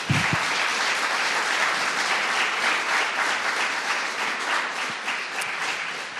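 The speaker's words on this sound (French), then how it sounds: "Beaucoup d'applaudissements, s'il vous plaît." A crowd applauds steadily and loudly at the opening of an animal-rights pleading competition, sustained clapping from many hands that fades slightly toward the end.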